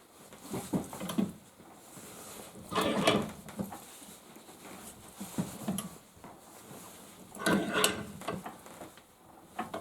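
A socket pressed onto a part of a BMW 550i/650i LUK LFR-440 power steering pump during a rebuild, giving repeated bursts of metallic ratcheting and clicking with short pauses between, close and fairly loud, with no talking.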